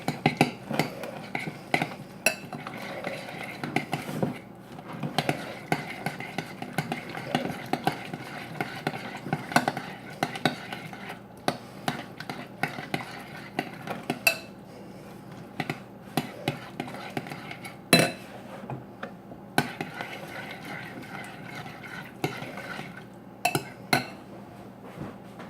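Macaroni and cheese ingredients, with butter mixed in, being stirred together in a pot, giving steady scraping and clinking of a utensil against the pot, close and continuous, with faint voice murmurs now and then.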